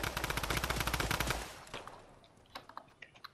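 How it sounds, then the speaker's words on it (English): Rapid automatic gunfire in the Fortnite video game, a dense loud burst for over a second, then scattered single shots and clicks trailing off. "Where the shots are coming from."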